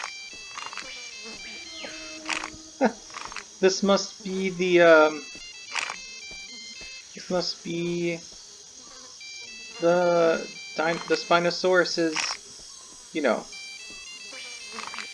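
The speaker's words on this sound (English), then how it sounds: "Do you hear that? That's a cell phone." A cell phone rings somewhere on a river island in a Jurassic Park hunting video game, a repeating electronic ringtone pattern playing steadily in the background while someone talks over it.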